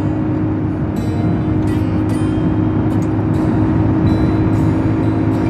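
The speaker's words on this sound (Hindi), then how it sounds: "अभी गाड़ी का स्पीड डाउन हो गया है" A vehicle on a road in Chhattisgarh with a slightly faulty engine runs with a loud, steady low drone as it slows, accompanied by a constant road rumble and a few faint clicks above.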